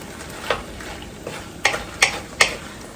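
Chicken udon with vegetables is stirred in a sizzling pan, giving a low frying hiss and about five sharp scraping clatters of the utensil against the pan, close and fairly loud, with no talking.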